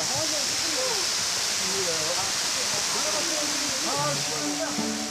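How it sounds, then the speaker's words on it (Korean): Guryong waterfall, a chain of nine cascades on a mountain, sends down a steady rushing roar of falling water while a narrator talks over it throughout. "물줄기가 시원하게 떨어지면서 내는 청아한 소리가"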